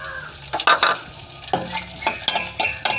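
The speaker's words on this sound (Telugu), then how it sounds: "ఇప్పుడు జీడిపప్పు, కిస్మిస్ వేయించుకోవాలి" Cashews and raisins frying in hot ghee for rava laddu crackle and sizzle close up, with intermittent scraping stirs of a spoon against the pan; no one speaks.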